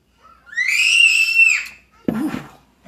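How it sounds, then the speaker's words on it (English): A child lets out a high, sustained scream for over a second, fairly close and loud, followed after a short pause by a brief lower vocal sound. "Did you hear that scream?"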